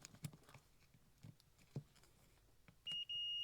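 A continuity beep from a multimeter testing the wiring of an aftermarket motorcycle switch being rewired to match an OEM Suzuki layout: a short steady tone, briefly broken, then held, following faint handling taps.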